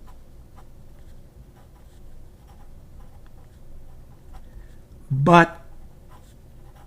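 Dip pen nib scratching across paper, a faint dry rasping in quick short strokes, with a rising voiced sound partway through as a person speaks.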